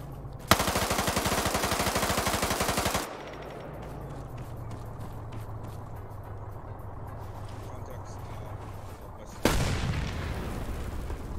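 A PPSh submachine gun in Arma 3 rips off a loud rapid burst, followed by a quieter stretch of distant rumble and scattered noise, then another close burst of fire near the end.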